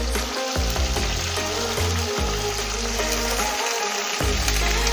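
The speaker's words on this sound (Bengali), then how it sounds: "এবার এটাকে আমি তেলে দিয়ে দিচ্ছি। আমি শিমগুলোকে পুরোটাই এর মধ্যে দিয়ে দিচ্ছি তেলের মধ্যে।" Halved flat beans fry in hot oil in a home kitchen, a loud, steady close-up sizzle and crackle with a few deeper bumps from stirring or shifting the pan, and no talk.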